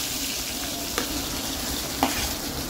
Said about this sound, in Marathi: सगळ्यात आधी टाकते लसूण, हिंग, आलं फिरवून घेणार आहे